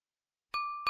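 A notification bell chimes twice, a bright clear ding followed by a shorter second strike, crisp and close after silence.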